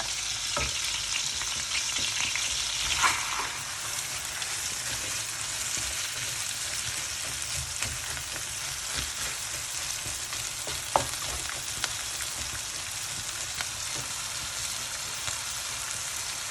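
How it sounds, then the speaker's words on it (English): Onions softening in butter in a kadai, a long even hiss of frying close by, with occasional soft clinks and scrapes of a stirring spoon against the metal. "So I'm putting the onions first, just slightly fry these and soften them."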